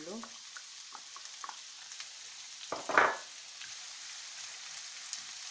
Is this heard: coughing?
no